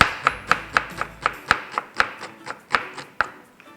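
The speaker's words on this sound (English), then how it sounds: "Use a chef's knife with a thick heel, and then it's just a simple case of slicing like that." A chef's knife with a thick heel slicing through vegetables on a cutting board, about a dozen crisp, evenly spaced chopping knocks at a steady quick rhythm, close and clear with no talking.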